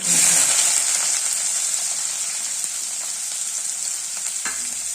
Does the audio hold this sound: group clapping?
no